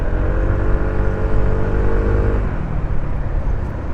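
A Kawasaki ER150P motorcycle engine drones steadily on a mountain road, a loud close low hum with a tone that shifts partway through, wind rushing over it and no voices.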